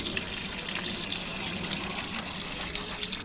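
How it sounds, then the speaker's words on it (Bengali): Tap water runs steadily while a fish is washed, a continuous close splashing gush at moderate level with no break, and no voices over it. "প্রথমে মাছটাকে ভালো করে ধুয়ে নেব।"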